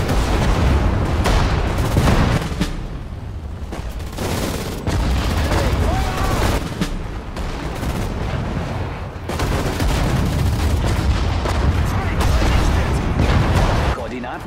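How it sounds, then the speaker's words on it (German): Artillery and gunfire erupt in Sudden Strike 4 during a Battle of the Bulge scenario. Loud, dense volleys, booms and rapid shots repeat nearly continuously, with brief dips between bursts. "Artillerie! Feuer!"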